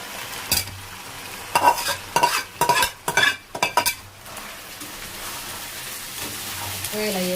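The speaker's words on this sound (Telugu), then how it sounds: "ఈ చికెన్ కూడా వేసేస్తున్నా" Chicken frying and being stirred in masala in a pan, with a run of loud scraping, clattering stirs in the first half, then a quieter steady sizzle.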